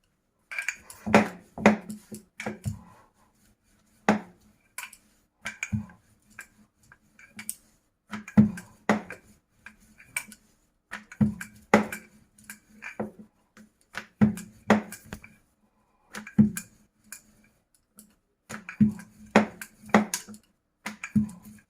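Cheese paratha dough being rolled out with a rolling pin, giving close, irregular bursts of knocks and clacks against the board, with short pauses between strokes and no talking.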